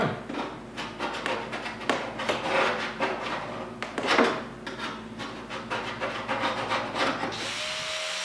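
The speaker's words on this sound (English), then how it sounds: "I can use my scribe" A metal scribe scratches a marking line on the steel door top corner of a 1972 Triumph GT6 under repair, heard as a series of quick, close rasping strokes with short pauses, fairly quiet and without speech.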